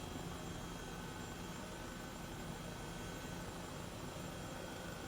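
A steady, faint whirring drone of an Airbus H135 helicopter in the Microsoft Flight Simulator video game, its rotor and engine hum holding constant and unbroken.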